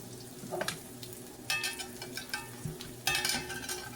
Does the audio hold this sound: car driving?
no